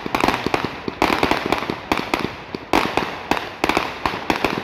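Fourth of July firework mortars bursting in quick succession, loud crackling explosions layered over one another with little pause between them.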